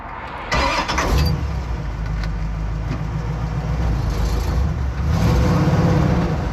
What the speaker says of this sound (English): Gotta figure out what that little stumble is on the car.